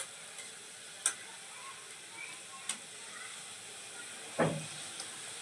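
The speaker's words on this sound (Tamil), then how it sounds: "எண்ணெய் நல்லா காஞ்ச உடனே சிம்மில் வச்சுட்டு பொரிச்சு எடுங்க" Paal cake, a sweet Tamil milk-based fried snack, frying in hot oil over a low flame: a faint steady hiss with a few brief sharp pops and one louder spatter, no talking.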